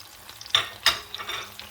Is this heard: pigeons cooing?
no